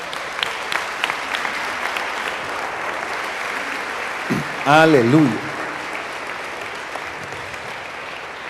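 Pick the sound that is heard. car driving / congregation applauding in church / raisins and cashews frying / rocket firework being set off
congregation applauding in church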